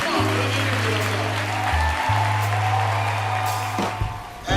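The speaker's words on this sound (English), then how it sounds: "Come on, bring it into the applause." An audience at a motivational talk claps in a dense, continuous round of applause that stays loud throughout, over a steady low hum, with no speech.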